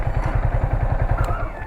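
A Yamaha R15 motorcycle engine idles and putters with a rapid, regular low pulsing thump, close and steady over a brief moment, with no one talking.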